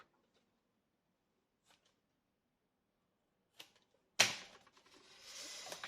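An old, worn paper trimmer slices paper with a sharp snap followed by scraping and shuffling of sheets, after a few faint taps in an otherwise quiet room.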